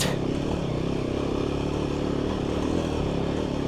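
An adventure motorcycle accelerating with the throttle opened, a steady loud engine roar with low rumble and some clatter, sustained through the whole stretch without pauses.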